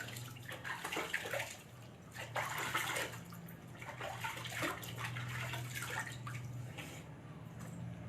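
Face being washed with water at a sink or in a bathroom, with steady splashing and dripping, irregular scooping and rinsing sounds close by, and a low background hum.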